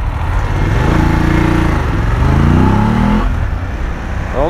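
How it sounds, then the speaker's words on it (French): A BMW F 750 GS motorcycle engine runs loud and close while riding, with a steady droning rumble whose pitch rises and falls through gear changes and acceleration, with no talking over it. "le bruit est sympa, assez valorisant, ça fait grosse moto quoi"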